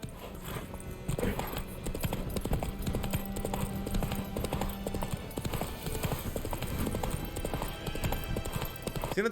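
Roach, the horse in The Witcher 3, clip-clops in a steady trotting rhythm of close, crisp hoofbeats. A faint voice murmurs beneath the hooves.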